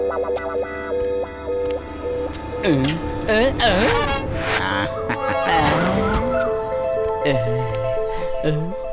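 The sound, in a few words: cartoon car driving up and skidding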